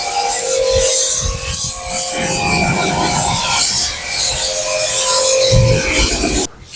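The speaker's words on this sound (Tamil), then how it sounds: "வாஷ் பண்ணிட்டாரு, இப்போது வந்து துடைக்கிறாரு." A cloth wipes down a freshly washed car at a doorstep car wash, giving a steady rasping rub with repeated strokes, close and fairly loud, ending in an abrupt cut.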